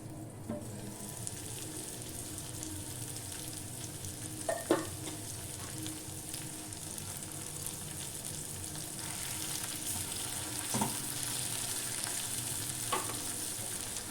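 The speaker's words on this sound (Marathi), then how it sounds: "मसाला छान ह्याच्यामध्ये फ्राय झाला पाहिजे" Ground masala sizzles and fries steadily in a pan over a gas flame while a vegetable dish cooks, with a continuous close crackle and a few brief stirring clinks, no talking.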